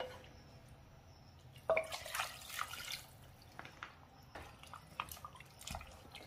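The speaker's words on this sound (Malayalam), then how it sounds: "ഞാൻ ഇതിലേക്ക് ഒരു 1/2 കപ്പ് വെള്ളം കൂടെ ചേർക്കുകയാണ്" Water is poured into a pressure cooker holding meat for a curry, a soft splashing that starts abruptly and trickles on irregularly at low volume, with no voices.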